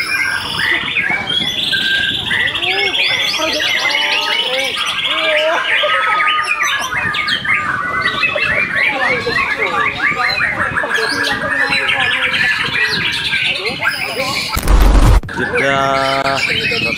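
A white-rumped shama (murai) in a bird song contest sings a dense, continuous stream of varied whistles, trills and chirps, loud and close, with other birds around and a brief loud thump near the end.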